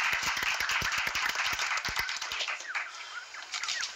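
Applause for the third-place winner at a fitness and bodybuilding contest, clear close hand claps in a quick uneven rhythm that thin out and fade toward the end, with faint chirps in the background.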